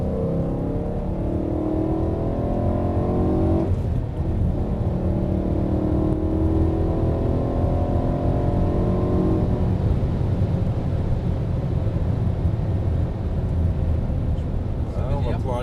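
BMW M3 E92 on a race circuit, engine rising steadily under hard acceleration with climbing harmonic whine, a brief gear change near four seconds, loud and continuous from inside the car while someone talks over it.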